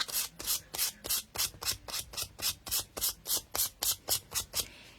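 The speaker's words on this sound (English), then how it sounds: "I'm going to give this apron a quick sand just to see if I need to give it another coat of white" A painted wooden apron is hand-sanded in steady, rhythmic strokes, roughly three per second, each a close, raspy scrape that repeats evenly from start to finish with no talking.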